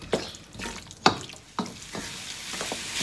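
Mutton is stirred with masala in a pot for Pathani namkeen gosht, with irregular loud spoon clacks and scrapes against the metal over a soft sizzle.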